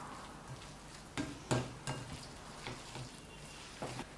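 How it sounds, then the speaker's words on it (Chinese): Minced meat filling stirred together with chopped scallions in a bowl, quiet wet squelching and scraping strokes at an irregular pace, close and faint, with no talk. "把肉馅和葱花搅拌均匀"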